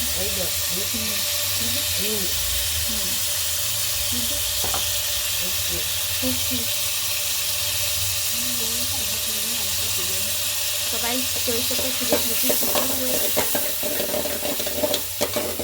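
Tomatoes fry in hot oil in a pan, giving a continuous hissing sizzle under faint background chatter, with clinking scrapes of stirring growing busier toward the end.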